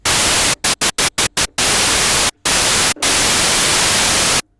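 A Korg MS-20 Mini synthesizer noise generator puts out loud, steady white-noise hiss, cut by a quick run of short gates and then two longer gaps before stopping dead; no voices.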